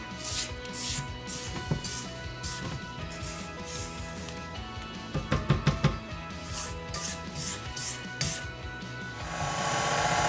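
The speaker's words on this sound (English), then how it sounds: "I'm going to stop my mixer because I want to actually scrape some of the sides of the mixture" A spatula scrapes around the sides of a mixing bowl of banana nut bread batter in repeated short, close rubbing strokes, with a few knocks midway and a hiss creeping in at the end.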